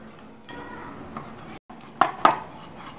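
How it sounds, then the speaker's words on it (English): A spoon clinks against a bowl while dry-roasted gram flour (besan) is stirred into a green paste for paneer tikka: soft scraping, then two bright metallic taps close together near the end. "We will add our dry roast gram flour or besan and we'll give it a mix."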